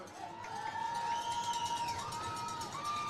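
Crowd noise at a college football game between Pine Bluff and Mills U, a steady roar of cheering and shouting that stays loud throughout, with brief whistle-like tones rising above it.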